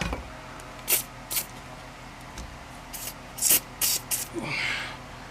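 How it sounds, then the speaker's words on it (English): Penetrating lube sprayed onto a Jeep Liberty sway bar end link in a series of short hissing bursts, about seven quick sprays close by, with a faint rustle between them and no talking. "Yet again, hit it with some penetrating lube."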